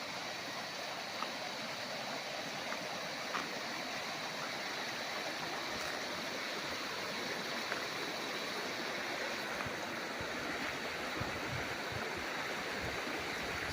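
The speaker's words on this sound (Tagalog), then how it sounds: "pakita ko sa inyo ang ilog mga kaprops" A clean, cold river in a rural farm lot in Real, Quezon flows steadily, a soft continuous rush of water with no voices, fairly quiet and even throughout.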